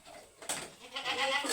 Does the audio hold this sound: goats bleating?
yes